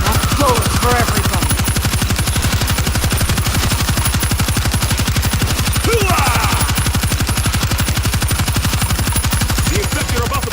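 Sustained rapid automatic gunfire in the World War Z zombie shooter game, loud and close, a relentless rhythmic stream of shots lasting the whole stretch over a dense battle din.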